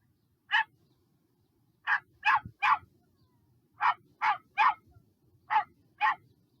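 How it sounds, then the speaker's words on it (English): A recorded dog barks in nine sharp, clear woofs, some single and some in quick pairs or triplets, set apart by short quiet gaps. "My dog sounds like this, but this is a recording."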